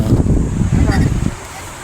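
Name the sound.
wind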